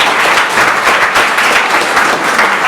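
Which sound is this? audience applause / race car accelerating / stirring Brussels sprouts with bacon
audience applause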